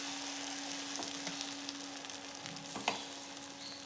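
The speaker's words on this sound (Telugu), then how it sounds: "మధ్యలో ఉండేటివి అయితే చాలా ఫాస్ట్గా ఫ్రై అయిపోతాయి, బాగా హీట్ అవుతాయి" Semolina guntha ponganalu batter frying in a paniyaram pan, a soft steady sizzle with a faint tone and a couple of small clinks, close and fairly quiet with no talking.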